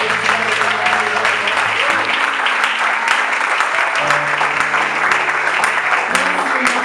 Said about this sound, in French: Est-ce qu'on peut acclamer pour Samira?